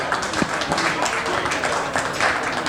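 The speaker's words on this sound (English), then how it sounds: "can we please give a round of applause for our MC?" An audience at an Africa investment partnerships forum held during the UN General Assembly claps for the master of ceremonies, a continuous spread of applause with scattered sharper hand claps.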